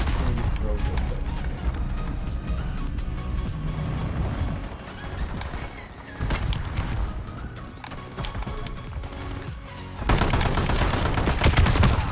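Rapid gunfire in a shooting video game, with repeated bursts of shots and a dense volley near the end, heard under a player talking.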